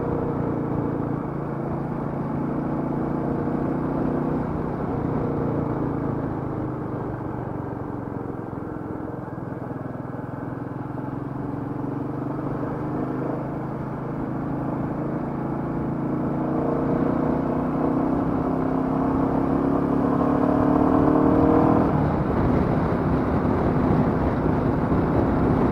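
A Royal Enfield Meteor 350 motorcycle ridden at night from the shop, a steady engine drone mixed with rushing wind noise, swelling a little louder toward the end.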